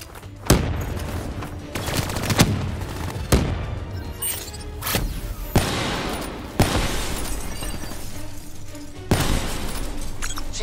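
Gunfire aimed at turrets in Call of Duty: Black Ops III, with sharp, loud shots and bursts every second or two and rolling echoes and booms between them.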